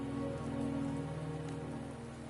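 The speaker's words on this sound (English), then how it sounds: "Don't worry, the rain won't last much longer." Rain in the game Wuthering Waves falls steadily on surfaces with a dense, even patter that continues throughout, mixed with a soft sustained musical tone and no speech.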